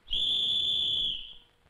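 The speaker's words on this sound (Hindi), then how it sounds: "मेरे बाप ने सीटी बजा दी है।" A father blows a whistle, one long, shrill, steady blast lasting just over a second before it cuts off, with no voices around it.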